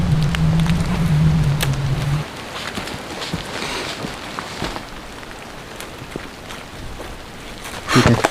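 Heavy rain pours down hard on a forest bushcraft camp without a tent. It hisses steadily and loudly throughout, with scattered drops tapping close by and a low hum fading out early on.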